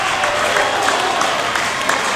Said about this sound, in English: listen to this crowd getting behind the Brothers in Flight. They're going absolutely wild here.